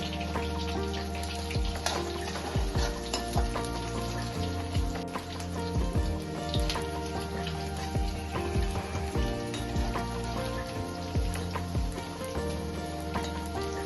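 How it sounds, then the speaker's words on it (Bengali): Chopped chillies and garlic fry in oil over a raised gas flame, a dense, continuous crackle like rain on a surface, with steady spitting and occasional pan knocks and no talking. "রসুন একটু ভাজা ভাজা হয়ে আসলেই লঙ্কা কুচিগুলো দিয়ে দেবো।"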